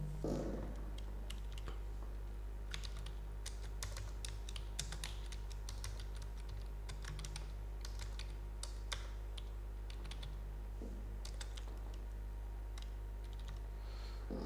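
Keys clatter steadily on a computer keyboard while text is entered in Microsoft Word, a continuous run of soft close clicks over a low steady hum, with no talking.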